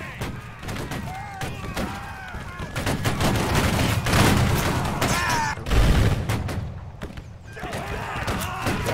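Rapid gunfire from a Battlecry of Freedom battle rings out in dense, overlapping bursts with occasional heavier thuds, sustained throughout and mixed with voices talking over the action.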